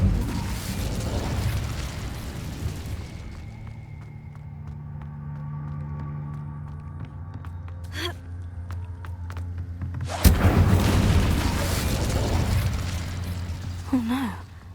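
An Incendio fire spell is cast in Hogwarts Legacy, a whooshing fiery burst that dies down into a low crackling rumble before a second, louder flaring blast erupts and fades.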